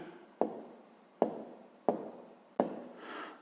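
Handwriting during a fifth-grade maths exercise: four distinct scratchy strokes, each a sharp onset that fades, spaced evenly and close by, with no voices.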